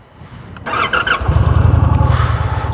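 A 2022 Indian Challenger motorcycle starts up: a brief starter whir and cranking, then the engine catches and settles into a loud, close, throbbing idle.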